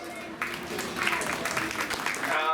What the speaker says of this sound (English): Let's go and give all our showmen a big round of applause